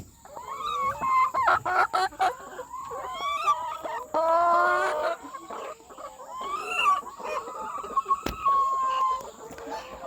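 Several laying hens cluck and squawk continuously at close range, with a brief louder burst of calls partway through and no talking.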